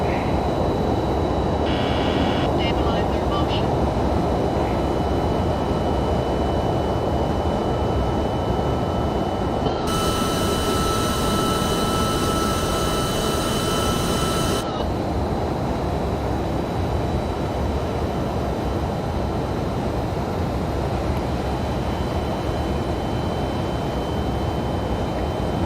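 MD-11F jet engines during climb-out in the X-Plane 12 flight simulator, a steady broad roar with a brief bright tonal band partway through, no talk.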